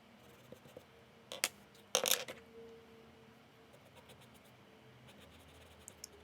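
Colored pencils in purple and blue scratch softly across paper while a tulle layered skirt is sketched. The quiet strokes come in short irregular bursts, with a couple of louder scrapes, and no one speaks.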